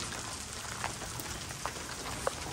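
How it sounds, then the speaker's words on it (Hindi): Heavy rain pours onto a newly built, freshly tiled house as a steady, fairly faint hiss, with a few sharper drips standing out now and then. "पहली बारिश हो रही है इतनी ज़ोरदार वाली हमारे नए घर में टाइल्स वगैरह लगने के बाद।"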